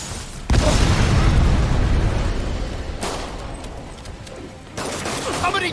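Rapid gunfire and explosive bursts in the Spider-Man PS4 video game, a loud sustained barrage that eases off then returns, with a voice heard briefly.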